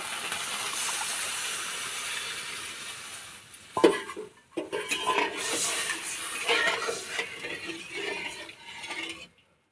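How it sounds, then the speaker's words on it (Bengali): Water splashed into spice paste frying in oil in a pan for a Bengali mourala fish curry, a sudden hiss and bubbling followed by clattering spoon scrapes and steady simmering sizzle, with no speech. "এবার জল দিয়ে দেবো সামান্য"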